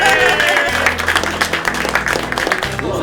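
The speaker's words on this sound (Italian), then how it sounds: "Un applauso!" Applause mixed with steady background music, the clapping moderately loud and continuous for about three seconds.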